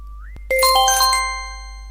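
A phone notification chime sounds as a short bright jingle of several ringing tones, preceded by a rising beep, loud and close, then fading out alone.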